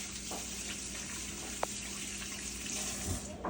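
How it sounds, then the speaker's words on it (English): Kitchen tap water running into a sink while hands are washed in a cooking setting, a faint, steady hiss and splash with a small clink partway through. "I'm going to wash my hands."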